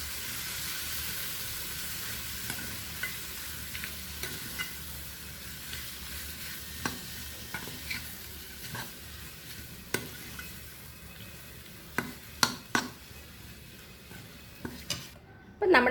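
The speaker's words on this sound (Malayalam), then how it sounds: "ഇതിലേക്ക് നമ്മുടെ മാങ്ങ കഷ്ണങ്ങളെ ചേർത്ത് കൊടുക്കാം. നമുക്ക് നന്നായിട്ടൊന്ന് മിക്സ് ചെയ്ത് കൊടുക്കാം." Mango pieces are stirred into a spice mix of chili, fenugreek and asafoetida powders for an instant mango pickle, making steady close scraping and mixing sounds with occasional sharp clinks of a spoon against the vessel, without talk.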